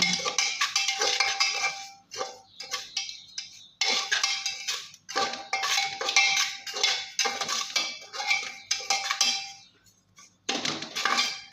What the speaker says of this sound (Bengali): কুকারটা আবারও বসিয়ে দিয়েছি দিয়ে আমি বেশ কিছুটা নুন দিয়ে দিলাম নুনটা বেশ ভালো করে গরম করে নেব